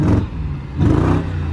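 A BMW 650i V8, an $800 car that runs with lots of smoke, revs up twice from idle, the engine close and loud, rising and falling in two surges.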